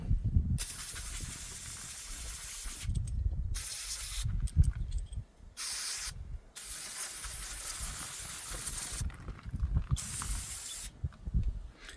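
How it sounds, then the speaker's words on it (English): Brake cleaner is sprayed from an aerosol can onto a dirty injector feed tube off a Cummins 5.9 24V common-rail diesel: several long, close, hissing bursts separated by short pauses, alongside faint clinks of handling. "So I'm gonna take some brake clean and clean it off."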